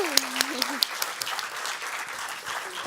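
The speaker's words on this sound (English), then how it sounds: "Warm applause to Taco." A conference audience at a women's leadership forum applauds a speaker named Taco, a moderate, even patter of clapping with a few sharper claps, under a voice at the start.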